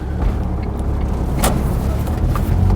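A car pulling away and accelerating, a loud low engine rumble heard close from inside, building steadily with no talk.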